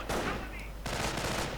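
Rifle fire in a WWII real-time strategy game, a dense burst of overlapping shots and gunfire crackle running almost continuously, loud and close, with a brief lull before the firing swells again.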